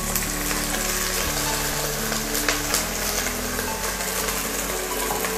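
Taro pieces fry in hot oil with garlic, ginger paste and spices, giving a steady, loud, close sizzle with a low hum underneath and no pauses.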